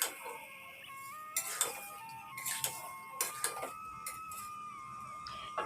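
Curry with ridge gourd and small catla fish stirred in a pan, sharp intermittent scrapes and clinks of a utensil against the metal over a faint background hum.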